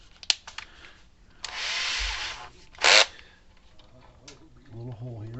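A small bit drills a pilot hole in a part of a Zareba Blitzer solar fence charger, a brief bright whir of about a second that stops, then a second short burst, with quiet handling noises and faint talk around it.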